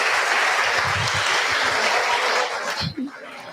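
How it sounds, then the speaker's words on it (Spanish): Church congregation at a Sunday school service applauds for Celeste, steady dense clapping loud and close that fades out near the end, with no talk over it. "Un aplauso para ellos, para Celeste sobre todo"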